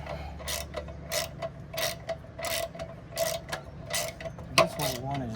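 A bolt is worked on by hand during home improvement, giving repeated close ratcheting clicks in a steady rhythm of short bursts, ending with a sharper metallic clank.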